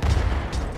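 A bomb explodes in a golf video game, heard as a short, muffled burst with a low rumbling tail, close and moderately loud.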